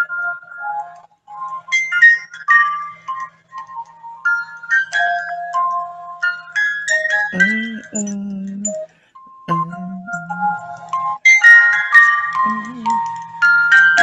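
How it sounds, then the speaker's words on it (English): Dragon Ball flute melody played as a phone ringtone, a bright, tinny electronic tune of short stepping notes with brief pauses, fairly clear and close, with a lower held tone entering partway through. "It's the flute from Dragon Ball."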